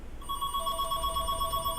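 A telephone rings with a steady electronic warble that starts after a moment and continues, moderately loud over a low background hum and rumble.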